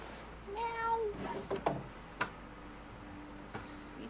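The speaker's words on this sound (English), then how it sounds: "Oh, it's my kitty cat." A pet cat meows indoors, a short rising-and-falling call near the start, followed by a second fainter, longer meow later, with soft ticks and knocks in a quiet room.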